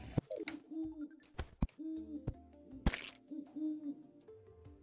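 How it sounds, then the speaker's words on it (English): An owl in Terraria hooting in a series of short, soft calls, interspersed with sharp game impact sounds and clicks. "You sniped an owl."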